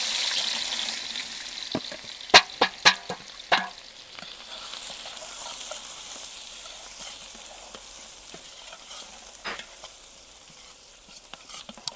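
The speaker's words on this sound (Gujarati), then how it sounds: "તો હવે નાખી દઈશું ડુંગળી અંદર." Onions go into hot oil for a village-style mutton paya, with several sharp clatters and crackles as they hit the pan, then a steady close sizzle and fry with light stirring.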